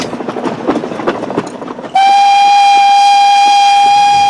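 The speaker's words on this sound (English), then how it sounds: "This is the most fantastic train, isn't it?" A steam train runs with rhythmic chuffing and clatter, then a loud, steady steam whistle blasts close by and holds for the remaining couple of seconds.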